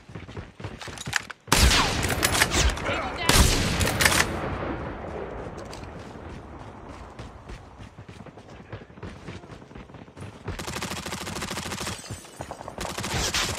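Gunfire in a military shooter video game, with loud, dense bursts of automatic weapon fire close by, broken by brief pauses, and sustained rapid shooting running through most of the stretch.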